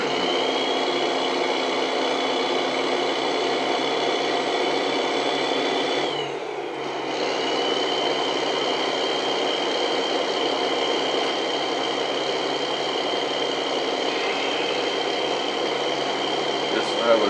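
A loud, steady engine-like drone of a truck being loaded in a backyard plays for the whole stretch, briefly dipping partway before resuming at the same level.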